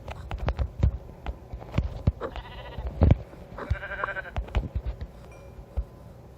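Sheep bleat several times in Minecraft Pocket Edition (Bedrock), short wavering calls standing out over a busy run of clicks, thumps and footsteps.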